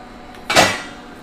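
A lid lifted off a steaming pot of egg momos, a single short metallic clink and scrape with a brief whoosh of steam, close and clear in a quiet kitchen.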